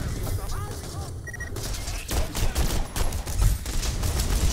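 Gunfire in the video game Borderlands The Pre-Sequel: dense bursts of shots running through the clip under game noise and voices, getting louder toward the end.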